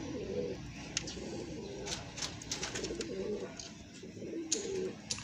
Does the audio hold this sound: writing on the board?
no